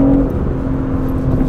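BMW M3 engine heard from inside the car: a steady, loud, low droning hum with a smooth, even tone for a short moment, no voices.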